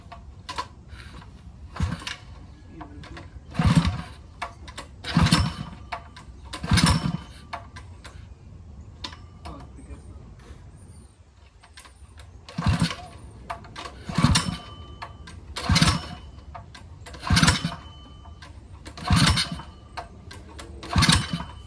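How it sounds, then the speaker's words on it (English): A Bajaj CT100 motorcycle engine is started and runs at idle, giving a steady low putter broken by about a dozen regularly spaced, louder revving bursts, recorded close with no talking. "we're gonna just test start it right now, so you guys can hear how it sounds"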